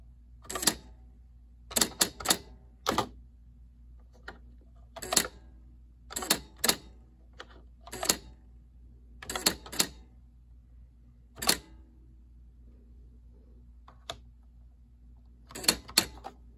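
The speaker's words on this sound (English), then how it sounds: "I'm typing one-handed because I'm having to hold the phone." Typing on a Smith Corona WordSmith KA1 typewriter, done one-handed: isolated sharp key strikes, some in quick pairs and triplets, with pauses between, close and clear against a low steady hum.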